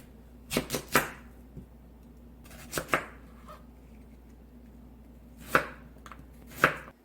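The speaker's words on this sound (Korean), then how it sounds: "먹기 좋은 크기로 잘라줍니다" A knife chops radish into bite-size pieces on a cutting board for nabak-kimchi, in close, crisp pairs and single chops separated by pauses, with no talk.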